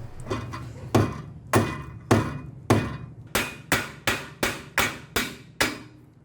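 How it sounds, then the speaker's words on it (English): A hammer strikes the tie rod end of a BMW E30 during a steering rack swap to pop it from the ball joint, about a dozen sharp metallic blows, sparse at first and then quicker and evenly spaced. "get our old friend the hammer"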